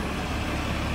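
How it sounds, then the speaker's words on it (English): Buses idle at a bus station, producing a dense, steady low engine rumble with broad traffic noise around it, loud and unbroken for a moment, with no voices. "here's the bus station. The power is so noisy."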